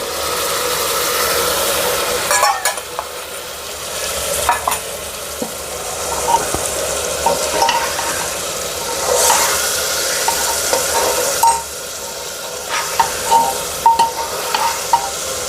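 Yogurt stirred into Maharashtrian masala rice in a hot pan, with a steady sizzle and scraping spoon strokes throughout, loud and close with no talk.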